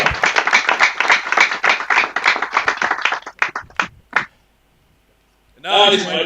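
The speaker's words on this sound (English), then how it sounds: "A big hand clap." Audience at a university graduation ceremony clapping in a brisk, fairly loud burst that thins into a few scattered claps, then stops; a voice speaks briefly near the end.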